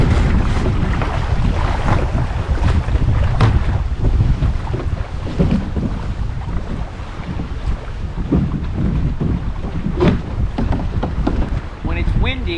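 Strong wind buffets the microphone in gusty, roaring waves, with lake water lapping and sloshing nearby during winter paddling; no voices are present.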